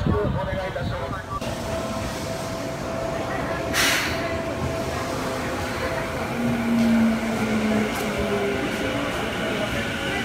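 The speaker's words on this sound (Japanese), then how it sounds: "2番ホール入間市行き到着です" A commuter train pulls into platform 2 of a crowded station on a Japanese line during an air base festival: a steady loud rolling rumble with a brief squeal, and a station announcer speaking over it.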